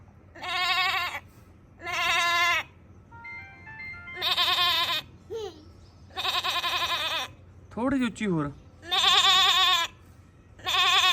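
A young voice imitates a goat, letting out about six loud, wavering bleats in a row, with a short spoken request in between.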